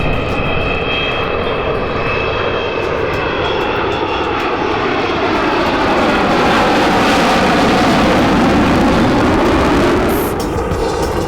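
Avro Vulcan jet bomber flying at the Shuttleworth airshow at Old Warden, a loud sustained roar that builds and sweeps past, with a sense of the aircraft moving overhead.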